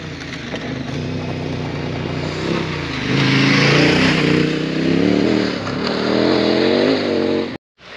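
A Yamaha T7 adventure motorcycle roars past at speed on a trail, its engine note swelling loud and close and then cutting off abruptly at the end, with no talk over it.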